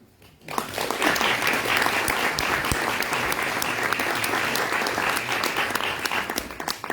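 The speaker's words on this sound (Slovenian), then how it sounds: "velik aplavz vsem vam" An audience at a human rights film award ceremony breaks into loud, steady applause that begins after a brief quiet moment and continues to the end.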